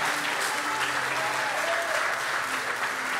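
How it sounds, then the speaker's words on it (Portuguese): A church congregation applauds in a steady, full burst of clapping, with some voices and faint tones mixed underneath. "Pode aplaudir, irmãos"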